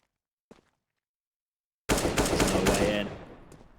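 A sustained burst of automatic gunfire in the video game CS:GO, loud and rapid, erupting suddenly after near silence and a single faint click, then tapering off.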